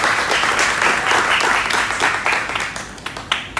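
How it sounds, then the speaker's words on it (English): An audience at a community meet-and-greet presentation claps steadily, a loud, dense wash of applause that keeps going throughout and fades slightly at the end. "Give them a round of applause."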